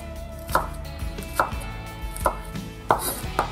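Shallots are chopped with a knife on a board as part of preparing a rum and pineapple pork roast, giving five sharp, close thuds spaced irregularly over a low background hum.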